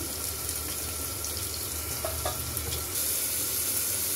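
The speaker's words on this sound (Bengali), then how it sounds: "প্যানটা গরম হয়ে গেছে, তেল দিয়ে দিচ্ছি। এটাই পটল ভাজা বসিয়ে দেবো।" Pointed gourd frying in hot oil in a pan, a loud continuous crackling sizzle with a few faint clicks in the middle, steady from start to finish.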